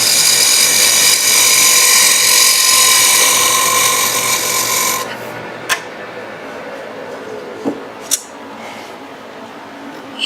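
A wood lathe turns while a square chisel cutter shaves the spinning piece, giving a loud steady tonal whir that drops away, then a few sharp isolated knocks.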